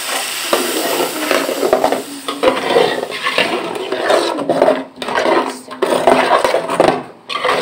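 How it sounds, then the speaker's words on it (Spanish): Ground beef with carrot browns in a pan for picadillo, giving a loud, steady sizzle close up, with a spoon scraping and stirring throughout and brief dips in the noise. "yo dejo dorar un poco mi carne molida con la zanahoria"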